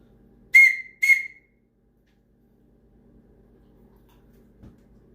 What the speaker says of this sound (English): he's going to be making a harder association with this whistle, where I'm going to give 2 toots